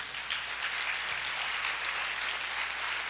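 Steady, continuous clapping from a church congregation fills the whole stretch, an even wash of applause with no voices standing out.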